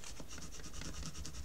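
A knife blade pressed and drawn along folded paper while making a scrapbook album, giving a steady close rubbing, rasping scrape with a few brief strokes throughout.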